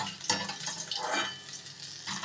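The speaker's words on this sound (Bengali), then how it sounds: "ইলিশ মাছের মাথাটা ভাজা হয়ে গেছে" A hilsa fish head frying in hot oil, a steady close crackle and sizzle with brief louder spits and bursts, no voices.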